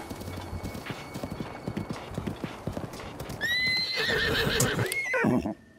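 Horse hooves in Zelda: Breath of the Wild clop in a quick, steady rhythm, then a loud, close whinny with wavering pitch rises over them before everything cuts off abruptly.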